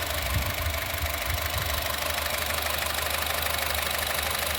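A 2009 Honda City i-VTEC petrol engine idles steadily, a continuous low hum with a faint mechanical ticking, close and alone with no voices.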